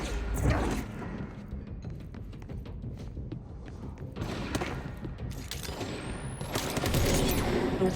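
Bursts of rapid gunfire and thuds from the video game Control, with scattered shots and impacts throughout at a moderate level.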